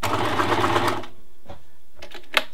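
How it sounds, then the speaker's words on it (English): A sewing machine runs a straight stitch on a bralette with elastic, a steady fast motor whir lasting about a second, then stops, followed by a few soft clicks and knocks of the machine nearby. "I think what I will do is I'll just do a straight stitch"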